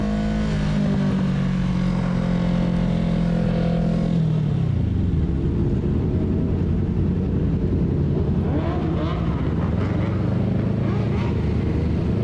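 A Kawasaki Ninja 650 motorcycle rides through traffic, its engine droning steadily and shifting pitch as it slows and pulls forward, with wind noise and passing vehicles around it.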